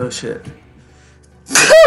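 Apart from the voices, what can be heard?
sneeze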